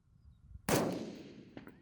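A single sharp rifle gunshot from a 6mm ARC firing a 103 grain ELDX bullet on a varmint hunt, cracking loudly and decaying into a short tail, followed by a fainter distant report.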